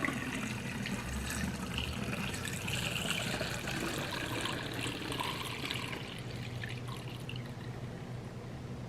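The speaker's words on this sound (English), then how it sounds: "I'm gonna throw a funnel right there, pour this right in." Homemade almond milk pours steadily through a funnel into a small jar, a continuous soft trickle and splash of liquid heard close up, with no talk.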